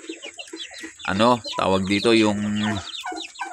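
Mother hens on a small farm, kept as breeding stock, clucking in loud close bursts with a few sharp calls, while someone speaks over and between them.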